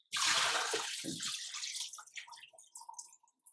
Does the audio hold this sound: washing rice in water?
yes